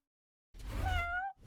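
A single drawn-out meow from an animated cat, clear and close, rising then falling in pitch after a moment of silence.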